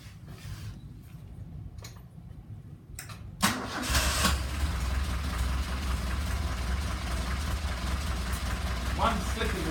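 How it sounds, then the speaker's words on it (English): A car engine, its carburettors freshly balanced, cranks and catches with a sudden loud burst, then settles into a steady, smooth idle that carries on close by. "I've balanced the carburetors up, and now the engine runs absolutely sweetly."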